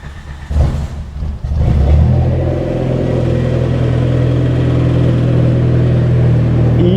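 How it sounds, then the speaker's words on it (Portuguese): A VW Golf GTI MK3 turbo with a straight exhaust and no muffler starts with a few clunks, then the engine settles into a loud, steady, raspy idle that runs close and continuous to the end. "o escape tá direto, não tem nenhum abafador, nada, zero. Vou ligar aqui pra vocês, ó."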